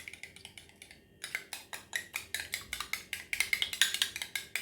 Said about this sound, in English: make sure you beat it up well